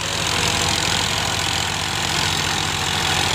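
An Indo Farm 2050 tractor engine runs steadily and loud throughout, a continuous low diesel rumble with a pulsing firing rhythm, close by and with no talk over it.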